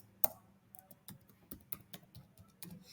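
Email and password being typed on a computer keyboard, a soft, irregular run of close key clicks with one sharper strike early on, heard alone in a quiet room.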